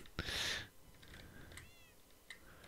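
A cat lets out one clear, close meow at the start, followed by faint clicks and soft background noise.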